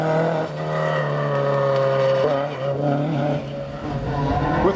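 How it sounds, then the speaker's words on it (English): Ford Escort rally car, a black historic entry, slides sideways on a 1997 Killarney historic rally stage, its engine holding a loud steady note close by with tyre scrub and small pitch shifts as it drifts. "Joe McGurk finishes 36 seconds behind and certainly keeps the Black Escort's sideways reputation intact"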